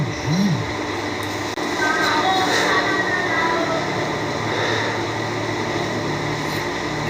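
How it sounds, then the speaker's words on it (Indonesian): A Jakarta MRT metro train rumbles steadily, a broad continuous roar with faint high squeals, heard from nearby and lasting throughout. "MRT ya, MRT."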